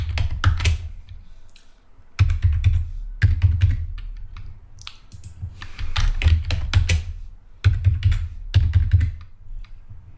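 Typing a username and password on a computer keyboard while setting up a Gmail account, bursts of quick close key clicks separated by short pauses, with no talking.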